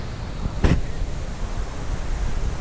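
Steady broadband rush of creek water at a forest campsite among pine trees, a continuous near wash with a brief louder splash or gust partway through, no talking.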